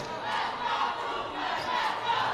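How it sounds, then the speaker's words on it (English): Basketball crowd noise from the PSAL boys championship game between Gregorio Luperon and South Bronx Prep, a steady broad roar with swelling shouts throughout, loud and continuous. "As the crowd gets into it, trying to put some wind in the sail of South Bronx Prep."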